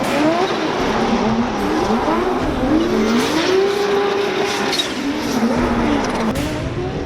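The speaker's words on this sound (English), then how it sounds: "Leave the gates, pick up a little bit more speed than I wanted, enter into the first turn, get on throttle" A Formula Drift car at the 2019 Dallas, Texas event leaves the gates and accelerates into the first turn. Its loud, close engine rises and falls in pitch, with tire squeal running throughout and no voices.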